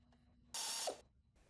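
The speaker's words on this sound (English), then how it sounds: "Tighten mounting bolts with 8mm and 12mm sockets." A ratchet tightens the turbocharger mounting bolts on a 2013-2015 Ford Escape using 8mm and 12mm sockets, heard as one short, loud, close burst of rapid clicking that stops abruptly.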